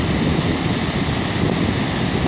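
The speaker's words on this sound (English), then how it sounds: "Currently the water is in full flow" Shivanasamudra Gaganachukki waterfall on the Kaveri River in full flow, a loud, steady broadband roar of falling water that holds constant throughout with no voices.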